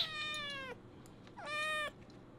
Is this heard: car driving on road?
no